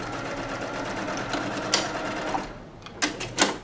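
A sewing machine stitches the final seam of a beginner striped quilt, running steadily and loud for most of the span before slowing into a few short separate bursts near the end, with no talking.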